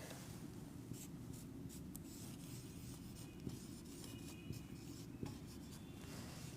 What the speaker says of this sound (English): Then another word I can write,